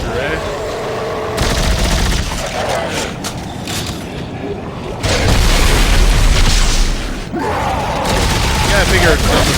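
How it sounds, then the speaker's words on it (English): A rocket launcher in Dead Space 3 fires with heavy booms and explodes amid dense gunfire bursts, loud rumbling blasts recurring across the stretch. "How do you like that rocket launcher, eh?"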